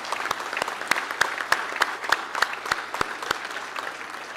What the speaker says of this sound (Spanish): Un aplauso, por favor, sin duda hay que reconocerlo.